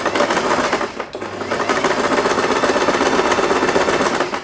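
Sewing machine backstitching fabric for a padded headband, a steady rapid mechanical chatter running close and loud with one brief pause near the start.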